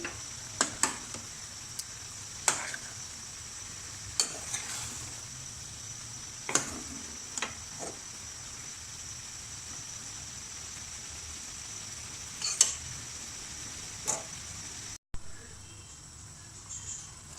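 Aloo gobi matar sabzi gets stirred in a pan, with scattered scraping knocks of a spoon over a faint, continuous sizzle and hiss.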